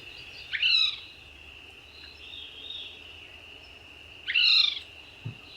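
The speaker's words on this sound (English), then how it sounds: "another call that they often make, this little rattle and the quip just before it." A thrush gives two short rattling calls, each with a quick clipped note, separated by about four seconds, clear and fairly close against a steady high insect-like drone.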